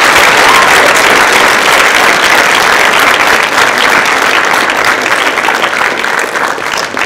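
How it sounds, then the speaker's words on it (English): A large audience at a National Honor Society induction ceremony breaks into loud, continuous applause, dense and even for several seconds with a slight easing toward the end. "let's give them a big round of applause."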